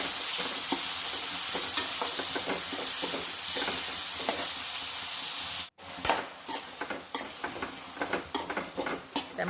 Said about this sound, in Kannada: ಟೊಮೆಟೊ ಎಣ್ಣೆಲ್ಲ ಚೆನ್ನಾಗಿ ಫ್ರೈ ಆಗಬೇಕು, ಆಗ ಟೇಸ್ಟ್ ಚೆನ್ನಾಗಿರುತ್ತೆ